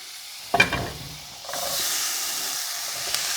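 Vegetables hit melted butter in a preheated pan with a sharp clatter, then a soft, steady sizzle and hiss rises and holds, fairly quiet and close, with no voices.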